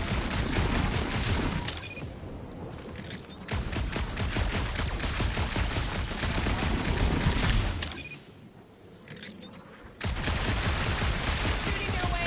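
Rapid gunfire bursts fill a Guardians of the Galaxy action scene, loud and dense, with heavy shooting broken by short lulls around two and eight seconds before the barrage resumes.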